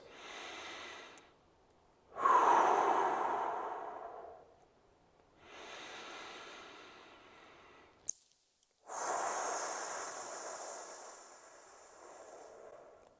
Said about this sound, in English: take 2 big inhale exhales